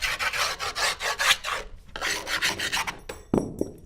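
A file rasping along the edge of a wooden board to smooth it, with quick repeated back-and-forth strokes in close bursts, a short pause, then more strokes ending in a couple of knocks.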